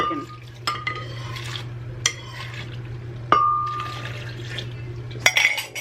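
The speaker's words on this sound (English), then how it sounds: "just add the water" Water is poured over toasted, reconstituted chiles in a kitchen, with splashy liquid sounds and sharp clinks of cookware against a steady low hum, heard alone without talk.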